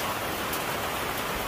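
Hard rain falling outdoors makes a dense, steady, close hiss that fills the whole stretch without a break.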